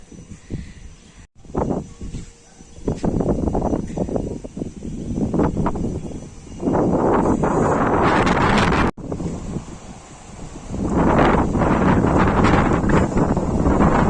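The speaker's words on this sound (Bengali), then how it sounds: "ভীষণ হাওয়া দিচ্ছে, ভীষণ হাওয়া দিচ্ছে।" Strong gusty wind blowing outdoors after a night of rain, roaring and buffeting the microphone in loud surges with brief lulls, close and rough throughout, with no talking.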